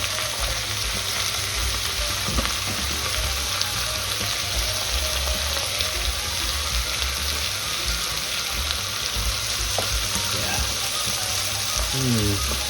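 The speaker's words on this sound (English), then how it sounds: "we're going to deglaze it with a bit of wine, cooking wine, or in my case, a bit of white cranberry" A hot pan deglazed with white cranberry juice while cooking osso buco, giving a loud, steady, close sizzle and frying hiss throughout, with faint stirring scrapes.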